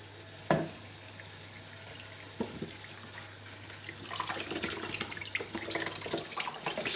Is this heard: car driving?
no